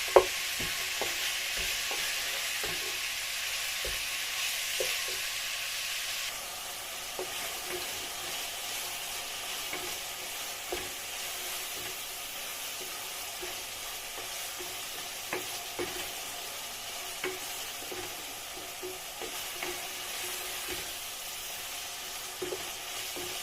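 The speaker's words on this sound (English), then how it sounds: "I'm gonna continue mixing this till it's nice and like brown color." A pan of spaghetti bolognese sauce with vegetables fries quietly with a soft continuous sizzle, while a spoon stirs and scrapes against the pan in scattered light clicks and knocks, close and low in level.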